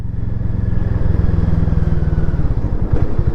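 Harley-Davidson X440 motorcycle engine running steadily up close, a loud, dense low thump with an even pulsing rhythm and no voices over it.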